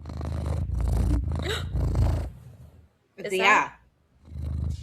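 A cat purrs loudly and close, a deep rumbling vibration in long bursts, alongside a person speaking briefly.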